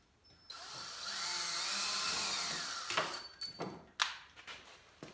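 Power drill unscrewing a screw while building a hutch, with a rising and steady whirring motor run and a falling pitch as it slows, then several short clunks and knocks of handling.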